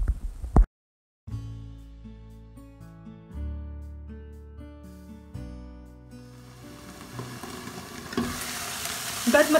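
Onions and falafel fry in a pan for a savory crepe filling, and the sizzling swells to a loud, dense crackle toward the end. Early on a brief gap gives way to sustained tonal sounds, and no voices are heard.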